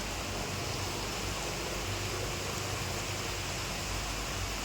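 Steady, dense hiss of heavy rain pouring without pause, loud and even throughout, with no voices.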